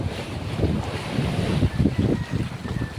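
Strong gusting wind and rough, growing sea waves from a distant typhoon lashing the coast, with loud buffeting wind noise on the microphone and rolling surges of surf.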